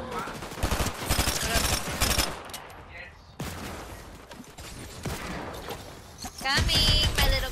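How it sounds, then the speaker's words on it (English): Bursts of rapid video game gunfire from players shooting, dense and loud in several volleys with a brief lull midway, mixed with game effects and a voice talking over parts of it. "Actual people are shooting at me."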